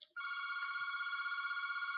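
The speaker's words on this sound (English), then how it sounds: "Sorry, that's a phone." A phone rings with a steady electronic trill that starts after a brief blip and carries on continuously, loud and close, with no talk over it.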